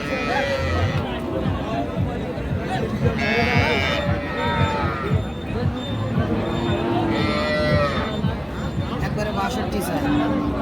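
Cattle, including deshi cows with calves and a young bull, moo repeatedly, long low calls rising over a busy crowd of people talking at the Raniganj livestock market.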